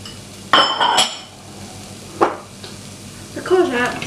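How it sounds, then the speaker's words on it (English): Sliced carrots, pepper, courgettes and mushrooms are dropped into a pan for vegetable pesto pasta, with a few close clinks and clatters of utensils against cookware and soft sizzling between them. "and finally the mushrooms in the pan. And give it a stir."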